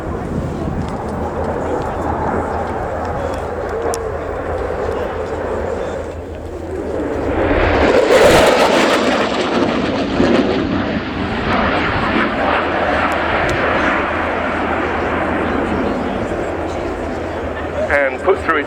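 A Polish Air Force Mikoyan MiG-29A jet roars through an airshow flying display at RIAT 2016, its loud engine rumble swelling into a broad sweeping pass and then holding steady, heard outdoors beneath a commentator's voice.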